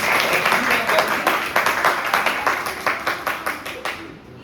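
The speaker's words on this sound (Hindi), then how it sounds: "एक बार जोरदार तालियां" Audience at a theatre masterclass giving a burst of applause, dense clapping that thins into slower rhythmic claps before stopping abruptly.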